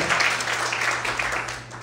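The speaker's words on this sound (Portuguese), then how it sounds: "Aplaude o Senhor bem forte, aleluia." A church congregation applauds steadily for a brief moment, dense clapping filling the space at moderate loudness.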